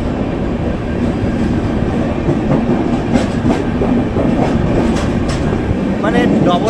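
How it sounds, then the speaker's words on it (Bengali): A Vande Bharat double-decker train on the Coimbatore–Bangalore route rolls into a station, a loud steady rumble of wheels and carriages with rhythmic clacks and faint squeals toward the end. "সেই বন্দে ভারতের এন্ট্রিটা একটু দেখুন।"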